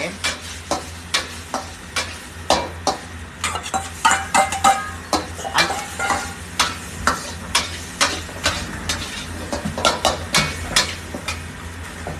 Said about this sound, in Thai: เวลาเราผัดข้าวนะครับ น้ำมันไม่ถึง